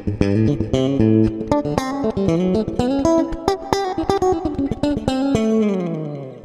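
A piccolo bass with both pickups on plays a fast chicken-picking line of short, snappy plucked notes, bright and percussive, with a final note left to ring out, played alone.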